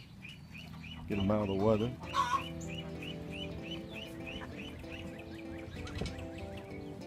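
Ducks and chickens in a farm coop cluck loudly while a little duckling peeps in a quick, regular series of high chirps, with a person talking briefly at the start.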